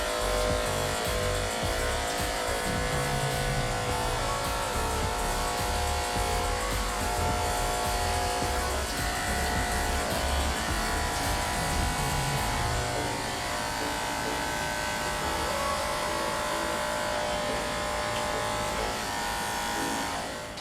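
Electric hair clipper cutting hair during a haircut, a continuous close buzzing whir with a slight dip in level toward the end, no talking over it.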